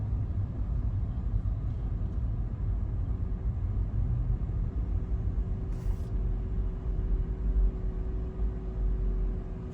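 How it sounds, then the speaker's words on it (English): Steady low rumble of road traffic near a Florida campground, vehicle engines droning continuously, with a brief hiss like an air brake partway through; no talking. "the traffic, not moving at all"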